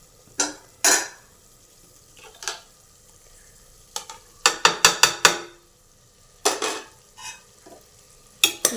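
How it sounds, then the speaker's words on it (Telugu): Chilli powder and coriander powder fry in a pan for mutton curry, heard as intermittent close scraping and stirring strokes over a faint sizzle, with no one talking. "వేసుకొని ఇలా వేయించుకుందాం"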